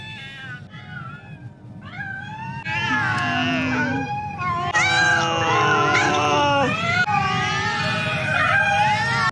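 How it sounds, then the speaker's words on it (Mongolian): A cat in the Japanese horror film Ju-On meows repeatedly, drawn-out wailing cries rising and bending in pitch, a few short calls first and then longer, louder, overlapping yowls over a low background hum. "утасны цаанаас өнөө муурын дуу мяавлан дуултхан тэр"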